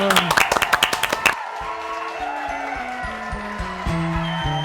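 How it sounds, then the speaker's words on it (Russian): A studio audience on a Kazakh talk show claps rhythmically to welcome an actor and his wife, a few sharp claps in quick succession, then the applause gives way to music and background noise. "Друзья, давайте встречаем их аплодисментами."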